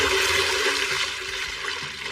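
Magic water summoned forth in an anime scene, a loud continuous gushing rush like a torrent pouring out, sustained throughout and slowly fading slightly, with no speech.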